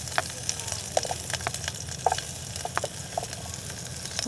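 Garlic frying in a hot pan of oil at a campsite, a continuous close sizzle with scattered stirring clicks and scrapes throughout, no voices.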